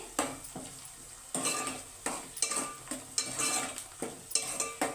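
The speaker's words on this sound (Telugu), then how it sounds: "వేసుకొని వాటిని కూడా ఫ్రై అయినంత వరకు కూడా ఫ్రై చేసుకోవాలి" Onions and sliced green chillies fry in a pan for a chicken curry, stirred with a utensil that scrapes and clinks against the metal in repeated strokes over a steady close sizzle.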